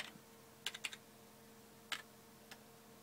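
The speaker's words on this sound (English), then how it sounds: "what we do is we type in boot" A few sparse keyboard clicks while a command is typed on a computer to boot a Windows 98 image on a PS3: a quick cluster of keystrokes, then isolated taps, faint against a low steady hum.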